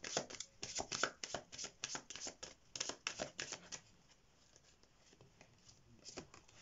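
Tarot message cards are shuffled in quick, rhythmic bursts of riffling and patting. The sound is soft and close, then pauses briefly before one last shuffle.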